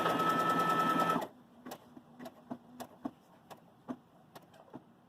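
Baby Lock Jubilant sewing machine stitching a buttonhole: a loud steady run of needle strokes for about a second, then a series of separate short stitch pulses and clicks as the zigzag side finishes.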